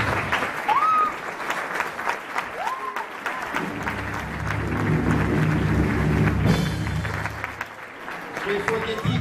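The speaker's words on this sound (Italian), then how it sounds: "adesso facciamogli noi un applauso al pubblico qui presente" Applause at a Christmas concert as the performers clap for the audience, lively clapping with voices and cheers mixed in and a brief stretch of louder talk in the middle.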